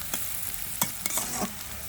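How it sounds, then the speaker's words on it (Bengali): Dried chilli, onion, garlic, ginger and a bay leaf frying together in hot oil, a soft steady sizzle broken by a few brief scrapes of stirring, close and without talk. "শুকনা মরিচ, পেঁয়াজ, রসুন, আদা আর তেজপাতা একসঙ্গে ভাজা নিচ্ছি একটু।"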